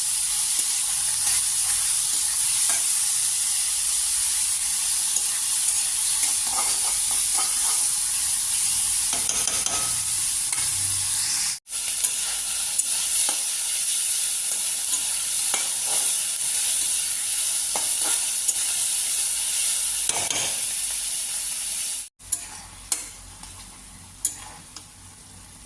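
Onions frying in hot oil, a continuous loud sizzle with a steady hiss, broken up by repeated scraping and clinking stirs from a utensil in the pan and two brief dropouts.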